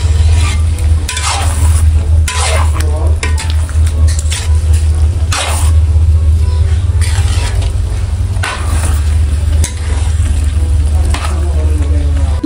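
Ginataang santol with shrimp is stirred in a pan, and a loud, continuous sizzle and bubbling runs under repeated scraping strokes of a utensil against the pan. A low hum sits underneath throughout.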